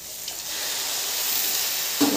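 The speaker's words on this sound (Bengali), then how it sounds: "শাকটা কেমন ভাজা ভাজা হয়ে গেছে, ভাজা হয়ে গেছে, শাকটা পূর্ণভাবে ভাজা হয়ে গেছে" Water spinach (kolmi shak) greens sizzle steadily in a hot frying pan, a close, even hiss that ends in a short stirring clatter.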